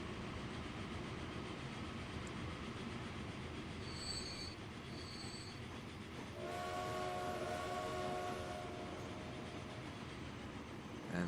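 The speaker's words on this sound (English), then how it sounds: "And the other trains, of course, are just gonna run empty." Trains running in the Transport Fever video game, a steady rumbling rail-car drone with wheel squeal, two short high whistle-like tones midway and a brighter metallic screech near the end, no talk.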